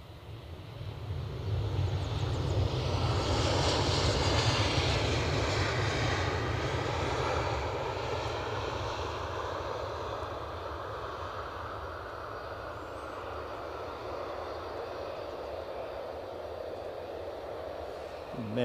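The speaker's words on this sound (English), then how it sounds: "The inbound aircraft is smartly on finals and the recently arrived plane is still on the active" A jet aircraft on final approach into Edinburgh Airport makes a loud, continuous engine roar with broad rushing noise, swelling early and then holding steady as it passes close by.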